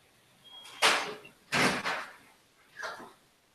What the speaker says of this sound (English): I'll have to open the door.